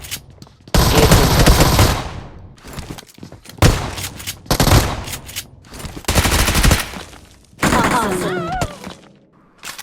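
Pump shotgun fire in the mobile battle royale game BGMI, several loud booming blasts in spaced bursts with short pauses between them, close and sharp.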